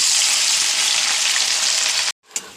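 Loud, steady sizzling of onions frying in hot oil, continuous and close, cutting off abruptly near the end before a brief clatter.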